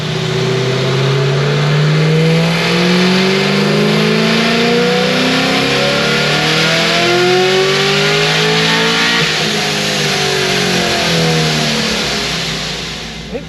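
Procharged Chevy SS engine revving hard in a shop with a few tire-spin passes, its rising and falling harmonic sweeps loud and close, near-continuous roar with no talking.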